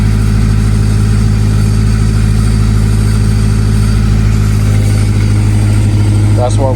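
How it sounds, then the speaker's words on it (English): A car fitted with newly installed Flashark headers idles loudly with a deep, steady exhaust drone and a slight rattle, continuous and close throughout. "That's just idling, and it's definitely a lot louder, and it's a little rattly"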